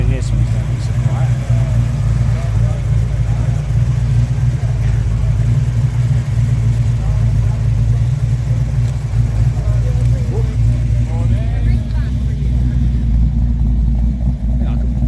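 A classic car arriving at a car show outdoors makes a loud, steady low engine rumble throughout, with some revving and crowd noise around it.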